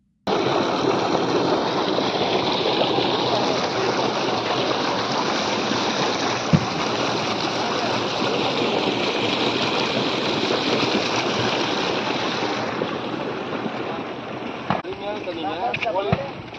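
Sewage water from the town flows into Koliyanur lake with a steady, loud, broadband rush that holds constant for the whole stretch, like a close, continuous stream.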